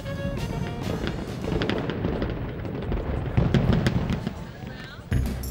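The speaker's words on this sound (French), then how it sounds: "Et aussi, les feux d'artifice." Fireworks crackle and pop in dense, irregular bursts over a rumbling crowd-like background in Montreal, with a sharper bang near the end.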